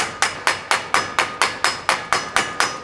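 A metal drill bit is beaten against a vise in about twelve sharp, evenly spaced clanging strikes, loud and close, with no talk.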